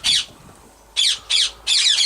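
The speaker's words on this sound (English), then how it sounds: "It's a funny sounding, very funny sounding pigeon, that." Racing pigeons at a one-loft race loft give odd, funny-sounding calls: four loud, harsh squawks up close, the first alone and the last three coming in quick succession after a pause.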